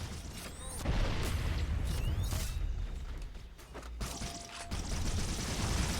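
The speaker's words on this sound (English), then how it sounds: "Well, bad grenade." Halo video game grenade explosion, a soft blast with scattered impacts and mechanical clatter set under layered game effects, fairly faint overall.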